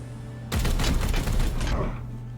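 Video game gunfire in Chaos Gate: a loud, rapid volley of shots over a steady low hum. It lasts about one and a half seconds, then fades back to the background tone.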